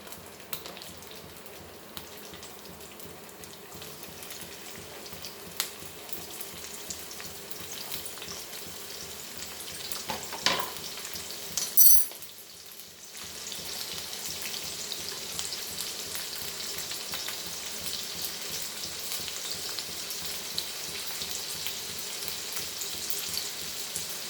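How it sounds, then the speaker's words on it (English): Garlic, chilies and onions fry steadily in hot oil in a pan for momos Manchurian, a continuous close sizzle with a brief stir or clatter near the middle and no voices. "let the garlic go in this and the chilies, and side by side I'll put my onions also"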